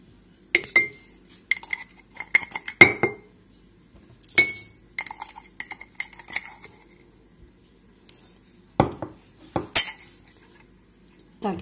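Metal spoon clinking against glass jars as heaped spoonfuls of sugar are added for pickling bell peppers in a home kitchen, a series of sharp separate clinks and taps with quiet gaps between.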